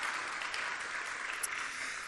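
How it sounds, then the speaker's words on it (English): Applause from a town hall audience for a singer, a steady wash of clapping held at moderate level for about two seconds with no voices over it. "let's give her a huge round of applause"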